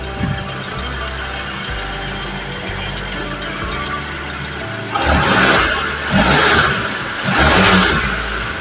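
A car engine idles steadily during an alternator check, then revs up three times in quick surges, each loud burst rising and falling back to idle.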